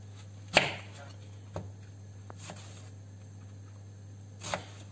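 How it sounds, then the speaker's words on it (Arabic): Onion sliced thinly with a knife on a cutting board, giving a few sparse, separate chops over a low steady hum in a quiet kitchen. "ودابا البنات ندوزو باش نقطعو البصلة"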